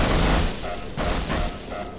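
Heavy gunfire from the video game Half-Life, a dense, continuous barrage of loud shots and booms that dips briefly and then resumes.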